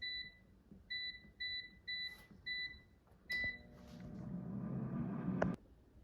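An air fryer gives a run of short, evenly spaced electronic beeps as its temperature and timer are set, then a final beep before its fan starts up with a rising whir.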